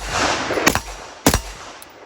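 Two sharp, loud rifle shots from a Sig Spear LT firing M855 rounds at a steel silhouette ring out about half a second apart over windy outdoor background noise, with no voices.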